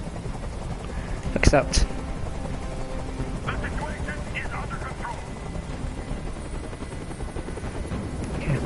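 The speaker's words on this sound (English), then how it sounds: "Tell that helicopter to get out of here." A helicopter hovers in the game Detroit: Become Human, a continuous low rotor rumble and wash filling the background under a spoken line and a short sharp clatter near the start.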